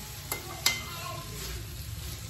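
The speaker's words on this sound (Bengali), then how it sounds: "এই হলো আলু পেঁয়াজ কলি ভাজা" Potatoes and onion stalks fry in a pan, a soft steady sizzle broken by two sharp clinks of a utensil stirring early on, heard close with no talk.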